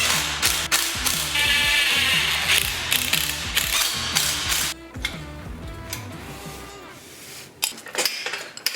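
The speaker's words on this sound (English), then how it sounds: "because all the bolts are in now, I can go ahead and tighten them all up" A ratchet wrench tightens the bolts on a cheap homemade motorcycle lift, giving quick repeated clicking strokes in bursts with metallic clinks, close and fairly loud, with no talking.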